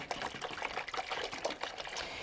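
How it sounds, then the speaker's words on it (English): Hot tap water pours into a foot basin for a neuropathy soak, a steady, close splashing and gurgling stream that runs the whole time with no voices. "So to get started, we fill the basin with hot water."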